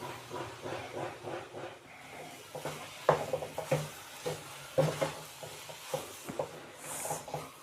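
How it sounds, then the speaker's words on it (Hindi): Grated carrots frying in oil for gajar halwa, with a steady soft sizzle and repeated scraping strokes of a spoon against the pan throughout, fairly quiet. "अब हम इसे सही तरीके से ऑयल के अंदर फ्राई करेंगे।"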